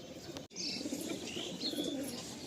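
Madrasi pigeons, a black Tikki-line pair, coo and chirp softly and continuously in a loft, fairly close, after one brief dropout.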